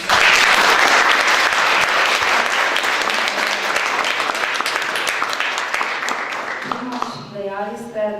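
A large audience at a Slovenian speaking event applauds steadily, a dense and loud wash of clapping that fades toward the end. A voice then begins speaking over the last of it.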